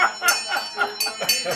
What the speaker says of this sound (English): Okay, ring the bell.